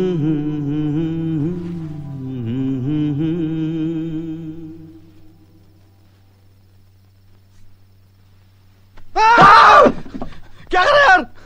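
A drawn-out, wavering vocal tone fades into near silence before a person lets out two loud, sharp screams of fright in quick succession, close and harsh.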